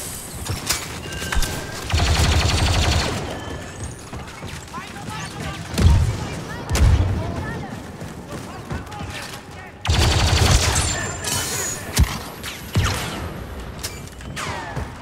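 Bursts of rapid gunfire in Star Wars Battlefront 2 on the Jakku map, some in quick volleys and others single cracks, with mechanical clicks and muffled voices in between.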